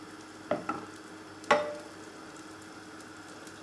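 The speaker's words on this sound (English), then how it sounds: "we can use a wooden spoon to melt the butter and stir in the flour" Butter melting in a pan while a wooden spoon stirs it, soft sizzling under a few distinct scraping knocks of the spoon against the pan, close and quiet.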